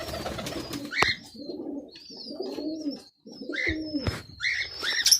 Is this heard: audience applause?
no